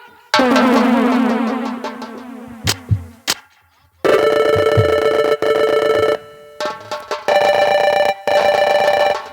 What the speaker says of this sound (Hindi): हेलो हेलो कौन? काली तू बोल, किस लिए फोन किया?